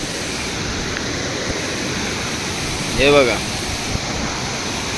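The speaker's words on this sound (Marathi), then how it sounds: "असा पाणी वाहता" Water runs over black rocks at Savdav waterfall in a steady, moderate rushing hiss, with a person briefly speaking over the flow partway through.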